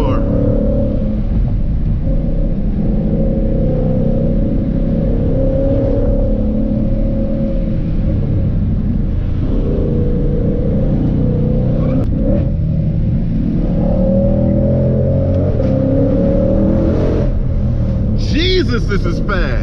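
A 2020 Ford Shelby GT500 engine rumbles and pulls hard from inside the car on a winding mountain road, a deep, steady roar rising under acceleration, with people talking over it throughout.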